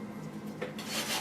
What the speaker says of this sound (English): one of these stainless brushes that I haven't used left over, so I'm going to give that a try